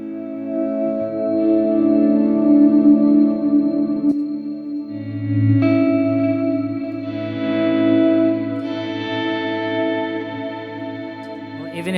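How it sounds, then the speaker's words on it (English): Sustained guitar notes smear into a wash of layered delay repeats and reverb from stacked pedals with feedback turned up, with new chords blooming every few seconds over a lingering ambient tail. "So if I stack this with my Nova delay and my reverb,"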